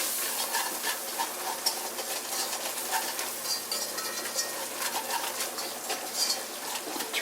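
Flour being stirred into fat in a hot cast iron pan gives a continuous close sizzle and crackle, with the soft scrape of the stirring utensil running through it.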